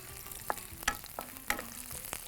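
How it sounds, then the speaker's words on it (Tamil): Ten garlic cloves are stirred into onions that are already sautéing in a pan. A soft, steady sizzle is broken by a few sharp scraping clinks of the spoon. "இதில் அந்த 10 பல்லு பூண்டு போட்டு நல்லா வதக்கிறோம்"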